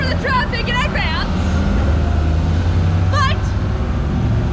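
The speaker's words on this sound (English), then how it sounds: "I apologize for the traffic in advance" Road traffic rumbles steadily through a tunnel area in Ketchikan, Alaska, a continuous low roar of passing vehicles with a guide talking over it.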